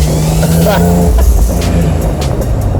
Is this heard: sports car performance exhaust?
yes